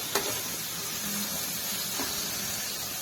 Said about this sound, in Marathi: बदाम काजूचे काप टाकून घ्यायचे, ड्रायफ्रूट परतवून घ्यायचे।